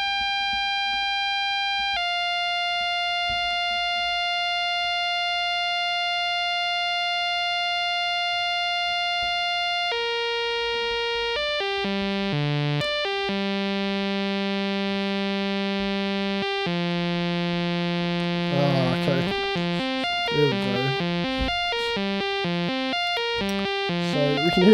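Serge modular synthesizer sequence patched into a volt-per-octave input: pure, steady sine-like tones hold long notes, then step through faster changing pitches and quick bursts, loud and alone with no talk.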